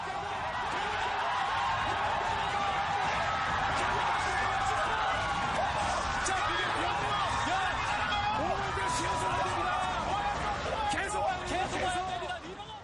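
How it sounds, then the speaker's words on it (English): A packed crowd at a classic pro StarCraft watch party roars and cheers wildly, a dense, sustained wall of shouting and whoops that stays loud and close throughout. "Can you guys hear the crowd going insane right now?"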